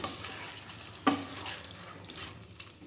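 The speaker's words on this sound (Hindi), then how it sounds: "इसे हम धीमे आंच में ऐसे ही स्टर करेंगे ताकि मसालों का जो फ्लेवर है इसमें अच्छे से चला जाए" Chicken gravy with black pepper, red chilli and cream being stirred in a pan over a low flame, a soft scraping and gentle sizzle with one brief louder clink midway, no talking.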